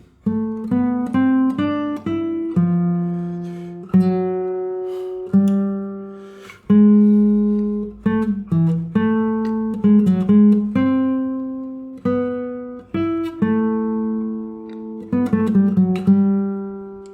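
A nylon-string classical guitar plays the slow contrapuntal fugue from Bach's lute suite BWV 997, individual plucked notes ringing clearly and decaying, with occasional bass notes underneath, no talking.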